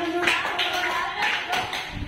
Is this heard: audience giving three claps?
yes